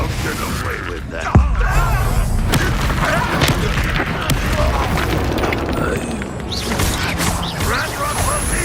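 Confringo fiery blast spell in the Hogwarts Legacy video game, with a sharp burst followed by a dense, continuous roar of crackling explosions and combat noise that stays loud throughout.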